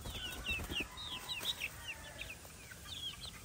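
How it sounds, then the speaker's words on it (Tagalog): Young chicks and hens on a farm give high, rapid peeping chirps in short clustered bursts over a steady background hiss, with faint low clucks beneath. "So yan, mga pasisiw na natin yan, palabas na natin."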